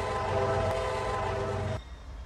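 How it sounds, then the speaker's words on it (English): An Amtrak passenger train on a CSX railcam in a Roblox game at Lee Hall, Virginia, rumbles loudly and steadily with a held horn tone, then cuts off abruptly near the end. "First train is Amtrak P-186. Heading into Lee Hall."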